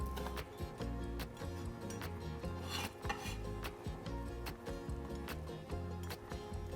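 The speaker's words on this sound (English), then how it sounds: "Now we have our dried shrimp. I like to just give these a nice mince." A knife chops dried shrimp into a coarse mince on a board, giving quick, irregular taps and clicks, close but fairly quiet, for a Taiwanese fried rice noodle dish.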